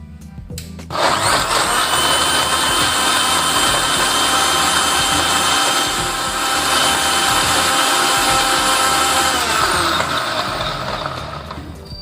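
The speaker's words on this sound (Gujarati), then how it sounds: "હવે આ બધી સામગ્રીને મિક્સરમાં શેક બનાવી લઈશું" A kitchen mixer blends milk and protein shake ingredients, kicking in abruptly with a loud, steady high-pitched whine that runs about nine seconds before winding down.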